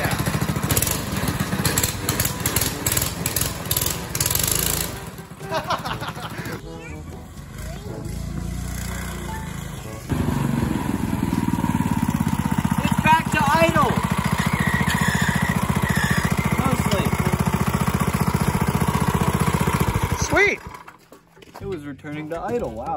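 A go-kart engine with its governor removed revs hard and loud in a steady, sustained roar, then drops back toward idle near the end. Voices are heard around it.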